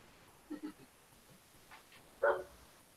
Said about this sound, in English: Now the dog wants back in.